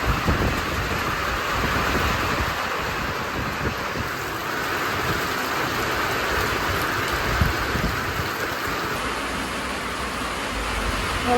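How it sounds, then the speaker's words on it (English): Steady rain falls continuously in a Yakutian countryside village, a dense, even hiss of drops with a low rumble underneath and no voices. "I'm gonna just wait until the rain stops."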